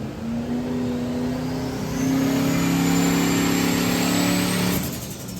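A 4.0-litre V8 swapped into a Nissan 200SX race car revs hard and close, its engine note climbing steadily in pitch through a long sustained pull before cutting off abruptly near the end, with no talking.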